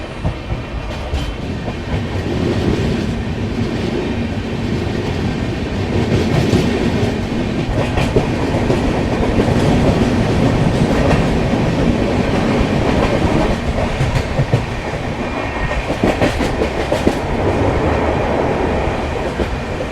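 The Digha Tamralipta Express runs from Howrah to Digha, giving a loud, continuous rumble of wheels and carriages with a rattling clickety-clack that rolls on steadily without any talk.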